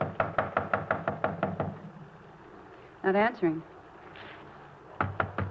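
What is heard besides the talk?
police knocking on a door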